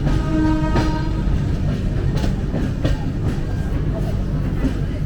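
A train rolls over the rails near Vijayawada station just past the main junction, with a steady loud rumble, rhythmic wheel clatter and a brief tonal squeal over the running noise.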